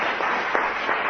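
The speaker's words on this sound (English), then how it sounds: "So let's have another round of applause" Studio audience applause on a British radio comedy panel show, a continuous dense patter of clapping that holds steady throughout.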